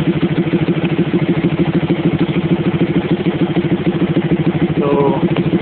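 A motorcycle engine with a Rextor CDI and stock ignition timing idles at about 1550 RPM, a loud, close, steady rapid putter with an even rhythm throughout.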